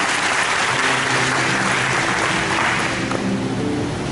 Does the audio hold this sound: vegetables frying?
no